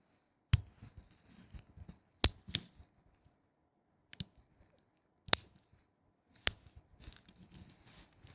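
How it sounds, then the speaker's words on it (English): Sharp metallic clicks from the clasp of a luxury wristwatch, a Rolex among others, come as sparse isolated snaps with long quiet gaps, close and crisp, with a few fainter ticks between them. "I really like the sound of this metal clicking"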